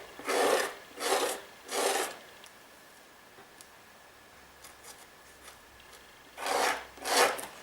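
Embossing paste being scraped off a card with a palette knife in a papercraft background technique: three rasping scrapes in quick succession, a quiet pause, then two more strokes, close and fairly loud.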